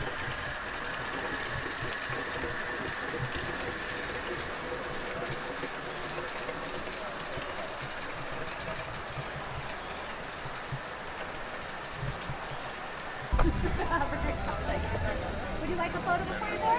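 Mt Washington Cog Railway locomotive climbing the mountain grade, a continuous rumbling rail and engine drone with rhythmic clanking, becoming heavier and closer near the end.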